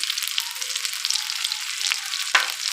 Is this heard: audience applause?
no